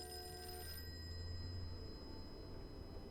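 A telephone rings in the Call of Cthulhu video game, a single electronic bell tone that sounds clearly for under a second, then fades into a faint steady room hum.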